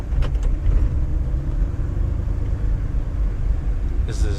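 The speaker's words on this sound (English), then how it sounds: "So this is double clutching." A 1959 Edsel Ranger's engine rumbles steadily and close up as the driver double clutches at the 2019 Woodward Dream Cruise, a low continuous drone filling the cabin.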